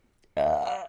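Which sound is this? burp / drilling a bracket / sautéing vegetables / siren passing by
burp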